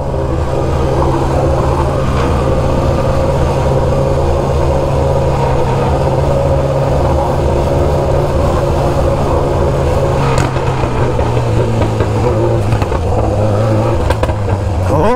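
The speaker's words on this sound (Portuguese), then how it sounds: "Tanto de moto vindo, louco." Steady engine drone from a road convoy of many motorcycles, including a BMW S1000RR, rumbling continuously and loudly up close, with revving swells and a passing surge near the end.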